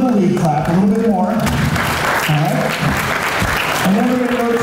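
An audience claps together during an improv comedy show's warm-up clap-down, a dense, steady wash of applause lasting throughout with a voice talking over it.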